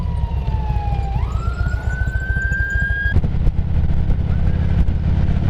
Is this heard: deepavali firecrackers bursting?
no